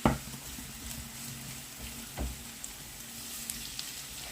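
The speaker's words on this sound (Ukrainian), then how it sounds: "І декілька хвилиночок просмажуємо морку." Soft, steady sizzling of carrots frying in a pan over high heat, with a few faint clinks and stirring scrapes, no speech.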